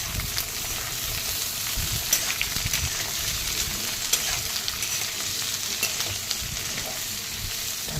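Garlic cloves and onion pieces fry in a pan for mushroom biryani, giving a steady loud close sizzle with light stirring clicks throughout and no talking.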